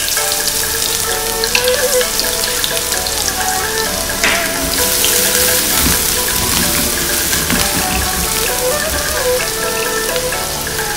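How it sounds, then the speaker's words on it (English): Garlic and onion sauté in a pan, making a loud, dense, steady sizzle like rain on a surface, with occasional stirring knocks and no voices. "So we have to saute this beef first, okay? So we have to put the garlic and onion."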